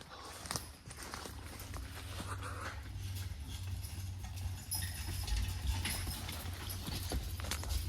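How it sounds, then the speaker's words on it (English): Working draft horses walk steadily, hooves clip-clopping close by over a constant low rumble of machinery or wind, with no talk. "we'll film the horses working and we'll appreciate them"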